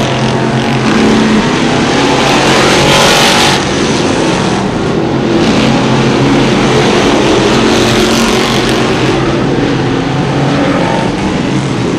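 Sportsman modified race cars racing on a fast 3/8-mile clay oval, loud continuous engine roar with passing cars swelling and fading amid a dense, sustained field noise.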